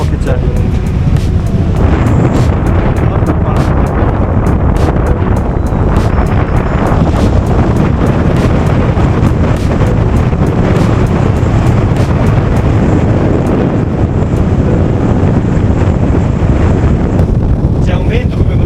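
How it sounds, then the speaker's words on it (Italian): Strong, steady wind at the Ridracoli dam during overflow buffets the microphone with a constant low roar and rushing noise, filling the whole stretch without pause. "C'è un vento, come potete vedere nelle bandiere, non forte"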